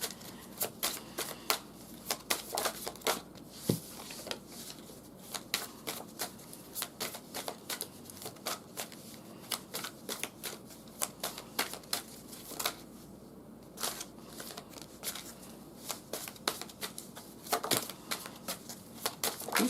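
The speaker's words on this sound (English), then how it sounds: "These cards are like smacking down." Playing cards, likely tarot, shuffled continuously with dense rapid riffling and slaps, close and steady for a long stretch, with no talk over it.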